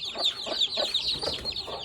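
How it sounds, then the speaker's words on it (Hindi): Chickens clucking up close in a village yard, a run of short, repeated squawky clucks in uneven rhythm, fairly loud with no talking. "मुर्गी ना इस मुर्गी के साथ लड़ती है"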